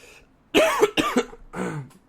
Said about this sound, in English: Sorry for the coughing during the pod.